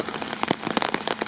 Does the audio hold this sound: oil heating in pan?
no